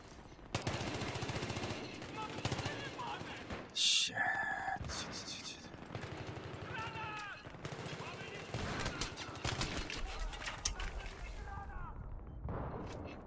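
Compact MP pistol firing in a Battlefield 3 match, quick shots and bursts mixed with other battlefield gunfire, under someone talking throughout.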